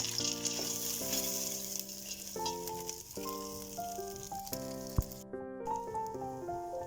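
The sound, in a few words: pasta being toasted in butter and tomato paste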